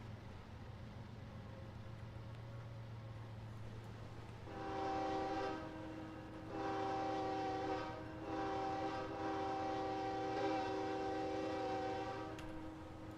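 An intermodal freight train in the Trainz railway simulator idles with a low engine rumble, then sounds its multi-tone horn in several long blasts with short gaps, fairly faint and without talk.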